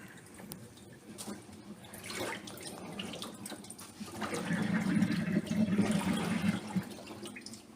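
Water drains and splashes from a container of olives being prepared, a rushing pour that grows louder midway and continues steadily, with faint background sounds.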